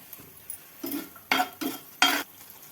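Radish greens with green chilies stir-fried in oil in a pan, a handful of separate scraping and clinking strokes of a spatula against the metal over a faint sizzle, spaced irregularly and otherwise quiet.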